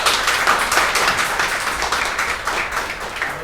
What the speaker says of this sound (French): juste à entendre vos applaudissements pour ceux qui sont dans la salle